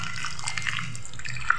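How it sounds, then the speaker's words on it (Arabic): Cold tap water runs steadily into a bowl of blanched grape leaves in a home kitchen, a soft continuous trickle and splash with a few small drips. "حاطينه في ميه ساقعه من الحنفيه عادي عشان الدنيا ساقعه يعني الميه ساقعه"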